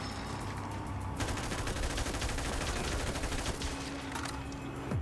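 Hip-fire gunfire in Black Ops 3 Zombies: a loud, continuous burst of rapid automatic shots lasting a few seconds, with no talking over it.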